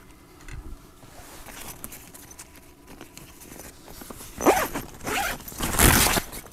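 A rooftop tent on an offroad vehicle is unzipped at a winter campsite, with quiet rustling at first and then two or three louder, rasping zipper pulls close by toward the end.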